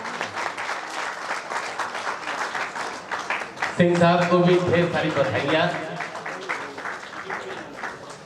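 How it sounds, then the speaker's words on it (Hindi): Applause from an audience at a gathering rolls on throughout, with someone speaking over the clapping through the middle. "एक जोरदार ताली।"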